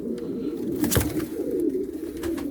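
Pigeons, including a white-tailed Arab-type young bird, coo softly in a loft with their chicks, low murmuring calls repeating close by over a faint background hum.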